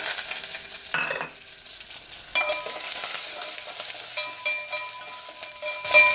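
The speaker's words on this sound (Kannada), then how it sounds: "ಕರಿಬೇವು, ಈರುಳ್ಳಿ ಹಾಕ್ಕೊಂಡು ಫ್ರೈ ಮಾಡ್ಕೊಳ್ತಾ ಇದ್ದೀನಿ." Curry leaves and onions frying in oil in a pan with a green chilli, a close crackling sizzle with bursts of stirring and spatter that grow louder near the end, no voices.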